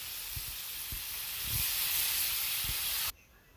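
A fish curry simmering and frying with milk and chili sauce gives a steady broad sizzling hiss, with a few soft low knocks underneath, before cutting off abruptly near the end.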